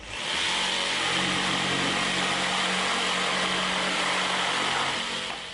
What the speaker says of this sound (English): See what a dramatic difference the orbital action makes to the cutting speed, particularly in thick timber.